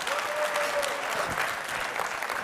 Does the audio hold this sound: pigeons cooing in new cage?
no